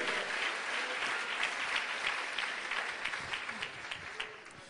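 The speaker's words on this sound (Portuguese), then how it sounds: "Santo, aplauda Jesus." Sustained applause from a church congregation during a worship service, dense and steady across the whole stretch with no voices breaking through.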